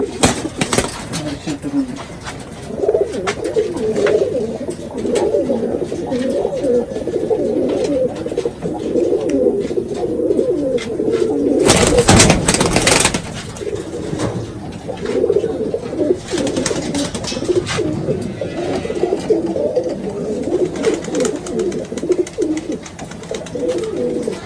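Flying pigeons in a loft coo continuously in low, overlapping warbles throughout, with scattered sharp clicks and a loud burst of handling noise midway.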